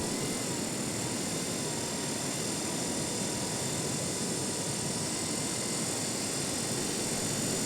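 A fishing drone hovers some 200 metres offshore above the sea, its rotors giving a constant, dense, loud whine and rush with no break.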